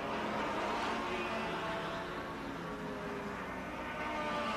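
1957 Formula One cars at the German Grand Prix, privately entered Maseratis leading a Cooper and a Porsche across the Adenauer Bridge, roar past as a steady, loud blur of engine noise with no talk.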